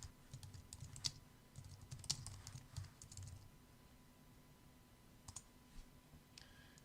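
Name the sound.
typing and clicking on a computer keyboard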